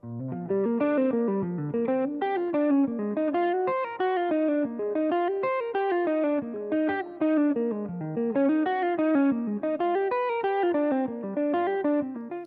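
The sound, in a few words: electric guitar playing eighth-note line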